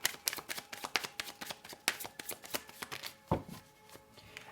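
Tarot cards being shuffled by hand, a fast run of crisp riffling flicks and soft slaps in an uneven rhythm, close and fairly quiet with no talking.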